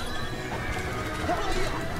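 A horse in Kingdom Hearts 3 whinnies loudly while hooves clip-clop steadily throughout, close and clear, with a voice speaking over the game sounds.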